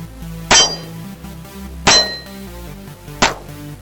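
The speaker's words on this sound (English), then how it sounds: "So first, we're going to do a couple shots with the Glock 19." Three Glock 19 pistol shots, each a sharp, loud crack about 1.3 seconds apart, ringing briefly against a low steady background hum, with no talking.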